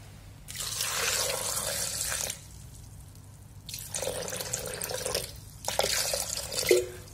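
Cold water pours into a Thermomix bowl in three separate bursts, with short pauses between them and a bright splashing stream heard close up, and nobody speaks.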